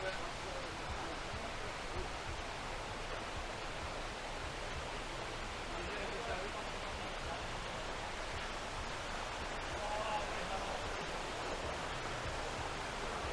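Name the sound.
waterfall in the jungle of Thailand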